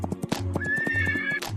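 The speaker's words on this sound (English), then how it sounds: "I wonder how they address each other while neighing." A horse neighs clearly and close by, a high sustained whinny framed by snorts and soft thumps.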